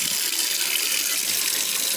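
Cold tap water runs hard and steady from a faucet over overcooked pasta in a sink, a loud, unbroken gushing stream heard close up without speech.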